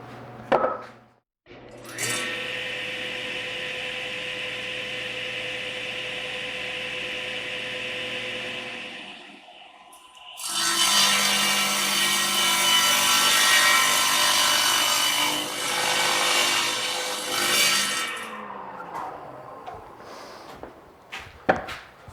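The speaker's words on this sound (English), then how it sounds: "take it over my table saw, put it on the crosscut sled, and true up the ends." A table saw with a crosscut sled trims the ends of a cedar board: the motor whines steadily, a brief lull follows, then a louder rasping cut through the wood that tapers off as the blade winds down.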